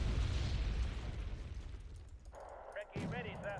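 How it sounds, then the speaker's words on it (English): Mortar rounds explode in the war strategy game Wargame Red Dragon, a heavy booming blast rolling off, then sharper pops and bursts follow as someone speaks over the battle. "That's 3 mortars."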